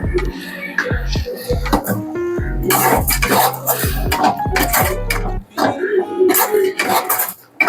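A spoon scrapes and knocks against a cooking pot while masala is stirred for chicken kulambu, giving a series of close, loud metallic clinks and scrapes in an irregular rhythm.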